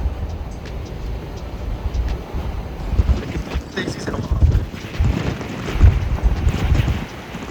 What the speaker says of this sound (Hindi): बहुत ही तबाही हवा है यार।